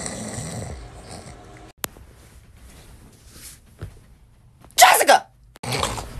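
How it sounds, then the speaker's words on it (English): A person snores loudly and close by, with a rough rasping breath at the start and sharp noisy bursts near the end, and a voice briefly in the background. "You snoring again"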